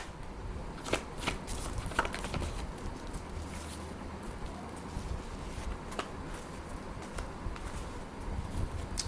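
Tarot cards are shuffled and drawn by hand, a close, quiet flurry of riffling and patting card sounds that continues throughout.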